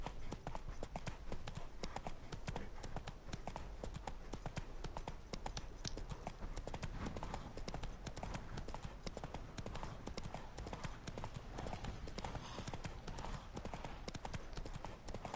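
Roach, Geralt's horse in The Witcher 3, galloping with a steady, rapid clip-clop of hooves that runs continuously and loudly throughout, with faint game ambience and some voice underneath.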